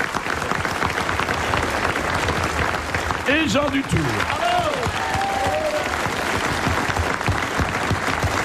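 A studio audience applauds at a French radio comedy show's anniversary broadcast, a dense steady wash of clapping running throughout while someone speaks over it and brief whistles or cheers rise midway.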